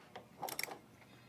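Wrench loosening the rear mount bolt on a running board linkage of a GMC truck with an AMP Research PowerStep, a brief cluster of metallic ratcheting clicks at close range, no talk.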